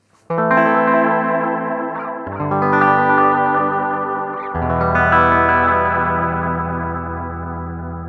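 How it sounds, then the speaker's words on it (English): A tape delay feeds its output back to its input, so loud, sustained distorted tones repeat as echoes, with three successive swells that ring on and slowly fade. "feeding some of the output back to the input created a repeating echo effect, like this"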